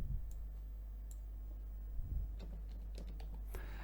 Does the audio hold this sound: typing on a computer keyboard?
yes